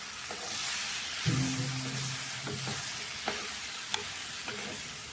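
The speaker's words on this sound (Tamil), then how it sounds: "நல்லா மிக்ஸ் பண்ணிடுவோம் நல்லா எண்ணெயிலேயே கொஞ்சம் அப்படி பீர்க்கங்காய் வதங்கிட்டோம்" Ridge gourd slices sizzle softly in oil while a utensil stirs and scrapes against the pan, with a few sharp clinks.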